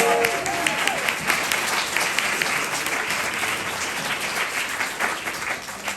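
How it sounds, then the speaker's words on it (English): Audience at a book reading event applauds warmly, a dense, sustained wash of clapping at moderate level, with a brief faint tone at the start. "Let's give him a round of applause."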